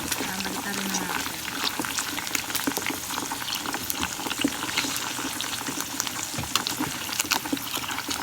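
Tempura frying in a pan gives a dense, steady crackle and hiss of hot oil lasting throughout, with scattered sharp pops and faint background sounds.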